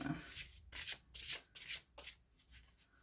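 Oracle cards from the Lost Oracle deck are shuffled by hand, giving a close series of soft riffling, rubbing bursts in an uneven rhythm, quiet and alone.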